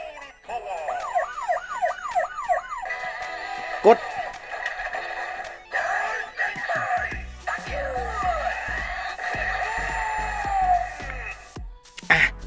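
A Zenkaiger DX Zenryoku Zenkai Cannon toy plays a police siren, wailing in rising and falling electronic tones, switching between patterns, with beeps, clicks and a voice talking over parts.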